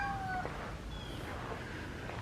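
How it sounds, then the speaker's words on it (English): A domesticated orange pet cat meows in a front yard, one faint drawn-out call near the start and a fainter second one later, over steady outdoor background noise. "So these aren't feral cats,"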